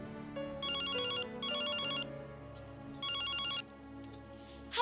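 A telephone rings while someone calls home, an electronic ringtone repeating in short bursts over a quiet background, fairly soft, with no one speaking.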